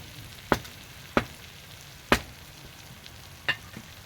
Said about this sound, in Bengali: টমেটো দিয়ে ভালো করে মশলাটাকে কষিয়ে 10-15 মিনিট মশলাটাকে কষাবো ভালো করে।